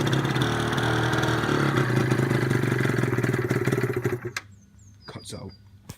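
A Yamaha RZ 50cc two-stroke motorcycle engine runs loud and steady close by with a buzzing, rattling drone, then sputters and cuts out around four seconds in, leaving quiet with brief clicks and a few spoken sounds.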